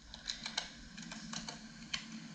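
Keys clatter on a computer keyboard in a quiet room, a close, soft, irregular patter of clicks in short bursts over a faint low hum.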